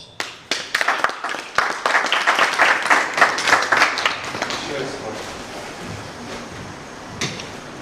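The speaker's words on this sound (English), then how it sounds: "A round of applause." A studio audience at a reality TV contest show bursts into close, dense clapping that swells and then thins into scattered claps before fading, with a host's voice over the tail.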